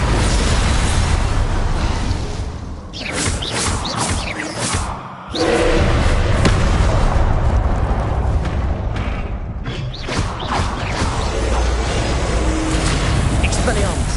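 Fiery spell blasts in a Hogwarts wizarding video game, a loud continuous roar with bursts and booms across the whole stretch, a brief dip in the middle, with voices speaking over it.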